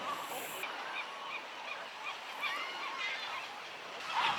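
Many birds call at once in a dense, continuous chatter of honks and squawks, a busy nesting colony on Alcatraz during nesting season at moderate distance.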